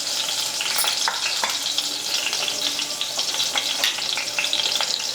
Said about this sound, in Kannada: ಇದು ಬೆಳ್ಳುಳ್ಳಿ ಕರಿಬೇವು ಫ್ರೈ ಆಗಬೇಕು